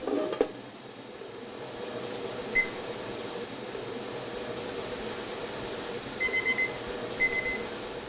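A kitchen timer beeps faintly in a few short bursts over a steady hiss of background noise, marking the end of jar canning.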